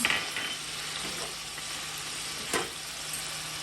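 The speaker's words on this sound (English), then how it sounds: "I'm going to add in my rice, and I'm going to add in all of my dry ingredients" Rice and dry ingredients hit a pan on medium-high heat, raising a steady, close sizzle and frying hiss, with a faint clink of utensil or grains near the middle.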